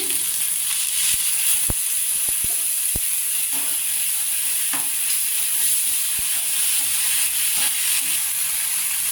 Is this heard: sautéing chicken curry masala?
yes